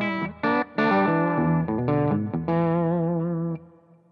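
Electric guitar played at full volume through an amp fitted with an attenuator and plexi switch, giving a driven, distorted tone in short bursts and sustained chords that ring out and decay at the end.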